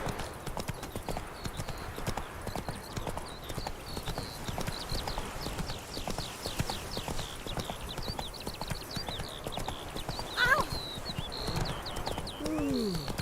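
Roach the horse gallops in The Witcher 3, a fast steady clip-clop of hooves running on and on, close and prominent, with faint game ambience and a brief whinny-like cry near the end.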